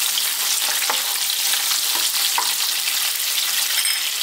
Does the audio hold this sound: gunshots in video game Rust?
no